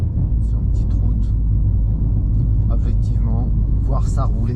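Renault 4L fitted with an R5 GTL engine driving along a small mountain road, its steady low engine rumble continuous and close, with voices talking over it.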